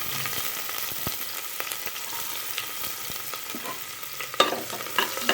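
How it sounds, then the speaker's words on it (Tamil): Chopped onions sautéing in hot oil with fennel for a Tamil mutton kulambu gravy: a steady close sizzle with intermittent scraping stir strokes and a few louder clacks near the end, no talking. "இப்போது இதில் நம்ம கட் பண்ணி வச்சுருக்க இந்த வெங்காயத்தை சேர்த்துக்குவோம்."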